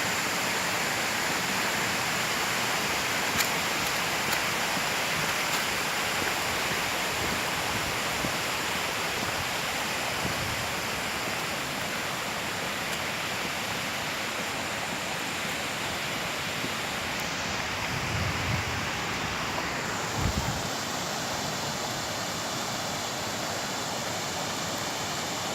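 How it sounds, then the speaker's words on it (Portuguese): Véu da Noiva waterfall in Botucatu, São Paulo, roars as a steady, dense rush of falling water, loud and unbroken throughout with no pauses. "Cachoeira Véu da Noiva, olha que show"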